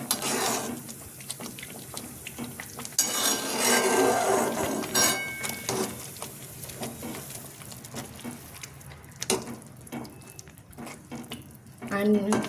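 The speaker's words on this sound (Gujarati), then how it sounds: "પાણી નાખીએ એટલે ખાંડ ઓગળે ત્યાં સુધી હલાવતું રહેવાનું છે।" Spoon stirring sugar and water in a pan for sweet vermicelli (sevaiyan), giving a close, busy run of scraping, clinking and sloshing strokes with no pauses and no talk.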